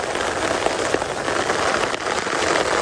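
Steady rain pours down, a dense continuous hiss of drops pattering on a surface, loud and close with no pauses.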